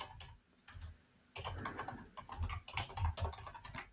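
Computer keyboard typing, quiet and close, with irregular rapid key clicks in short bursts that pick up after a brief pause, alone with no voices.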